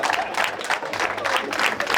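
Audience applause during a brunch and Q&A gathering at the Commencal Plaza, a steady burst of many hands clapping close by for two seconds with no voices over it.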